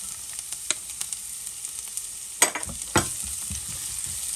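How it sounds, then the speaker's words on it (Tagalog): Garlic and onion sizzle steadily in a hot pan for a carbonara spaghetti, with a constant bright hiss broken by a few sharper stirring scrapes and clicks near the end; no one talks. "Pag brown ng bawang, sunod ang sunod yung bawang. Sunod ko na ang sibuyas."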